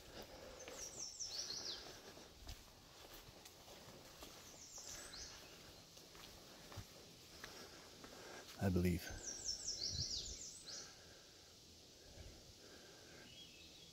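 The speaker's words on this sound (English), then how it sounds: "That was a wood thrush." A wood thrush sings in a quiet woodland along a lake trail, giving two short, fluting phrases a few seconds apart. Someone speaks briefly between them, and a sharp knock and footsteps sound nearby.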